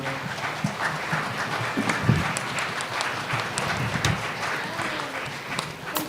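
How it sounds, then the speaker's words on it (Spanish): A church congregation applauds the Lord during a Good Friday Seven Last Words service, a dense, sustained wash of clapping with a few louder bursts, lasting throughout. "Denle un fuerte aplauso al Señor."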